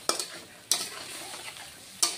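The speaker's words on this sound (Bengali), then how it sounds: "মশলাটা ঠিক মতো ভেজে নিতে হবে" Spice paste for a Bengali mustard fish curry with bata fish frying in oil in a pan, a steady sizzle broken by three sharp scraping stirs of a spatula, loud and close.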